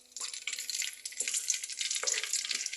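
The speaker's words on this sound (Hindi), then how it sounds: "आधे मिनट तक मैं फ्राई कर दूंगी गरम ऑयल में" Whole garam masala spices fry in hot oil with a bright, steady sizzle. A few soft clinks of stirring break through it, close by and with no talk.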